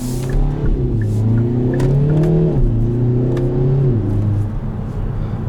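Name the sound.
2021 Kia Forte GT engine revving while accelerating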